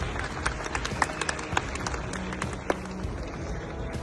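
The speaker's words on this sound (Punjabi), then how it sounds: "ਤਾੜੀ ਲਾ ਕੇ ਦੱਸੋ" Crowd applause at a Punjabi election campaign gathering backing a candidate contesting polls in Australia: a steady wash of many hands clapping, with scattered sharper claps standing out, moderately loud and continuous throughout.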